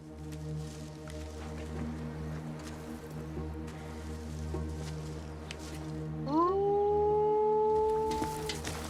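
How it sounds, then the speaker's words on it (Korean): A wolf's long, rising howl swells in and holds steady near the end, loud and close, after a stretch of low rumbling ambience in a film scene by a forest river. "존은 바로 옆에서 늑대의 울음소리를 듣게 되고"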